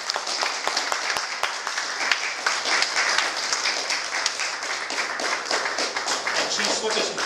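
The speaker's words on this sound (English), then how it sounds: "a special round of applause for the Tarentino family and the Auburn Police Department" Sustained applause from a crowd at an outdoor dedication ceremony in Auburn, Massachusetts, honoring the Tarentino family and the Auburn Police Department, with dense steady clapping and some voices mixed in throughout.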